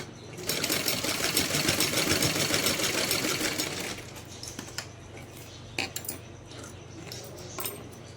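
Sewing machine stitching folded lace onto a small dress: a steady, close whirring run of needle strokes for about three and a half seconds, then stopping, followed by scattered light clicks and handling sounds.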